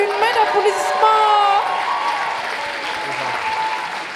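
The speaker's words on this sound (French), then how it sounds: "Une main d'applaudissement!" Concert audience at a singing competition final applauding loudly and steadily, with a sustained sung or held voice tone over the start, the clapping continuing as a dense wash that eases slightly toward the end.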